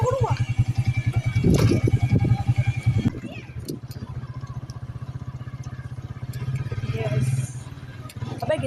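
A heavy 70 motorcycle is being ridden carefully, its steady engine chugging close by under rattling clatter, while people talk over it throughout.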